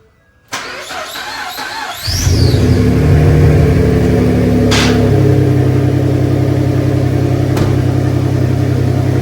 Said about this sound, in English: it is straight pipe, no muffler, and I have yet to hear it run